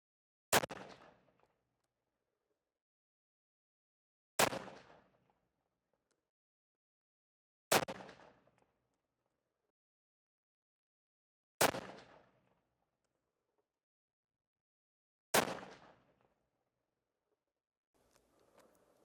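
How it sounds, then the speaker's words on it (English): Five sharp rifle shots from a 7mm PRC loaded with 55 grain rounds, fired at a target at steady intervals of about four seconds, each loud crack followed by a short decaying echo. "we are going to be shooting the upper left now"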